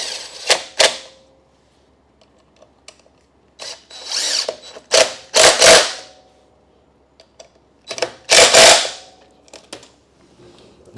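A power drill drives screws coated with blue Loctite in several separate bursts, each a short whirring spin-up, spread across the clip with quiet pauses between them and no talking.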